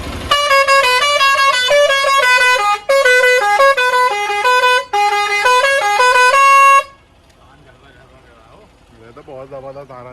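A pressure horn fitted to an Eicher BS6 truck blasts loudly for about seven seconds, playing a rapid melodic sequence of shifting tones with two brief breaks, then cuts off, leaving faint background sound and quiet talk.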